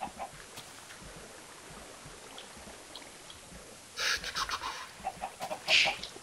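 Chicken clucking in the Minecraft video game: a few short, bright clucks arrive in bursts near the end after a quiet stretch of low background noise.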